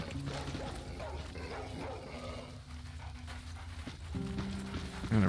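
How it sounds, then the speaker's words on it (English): Dogs in the video game Stay Out pant and yip in quick, close bursts, with a steady game ambience beneath and a louder bark-like burst at the very end. "We're gonna wait for all the dogs to come to me."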